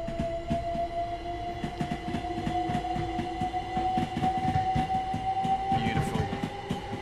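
A simulated eight-car commuter train runs steadily on the London Commuter route in Train Sim World 3, with a sustained rumble, rhythmic wheel clatter over rail joints and a rising electric motor whine throughout.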